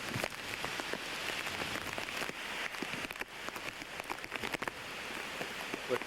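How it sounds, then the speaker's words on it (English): Heavy rain during 1991's Hurricane Bob pours down steadily, a dense close hiss of drops on surfaces with scattered louder spatters throughout and no voices. "Look at that rain come through."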